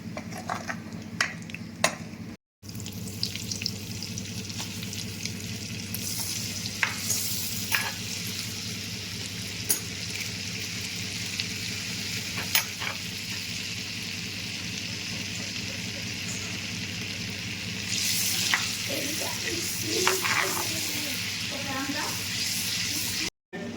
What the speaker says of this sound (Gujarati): ડ્રાયફ્રૂટ પણ ફ્રાય થઈ ગયા છે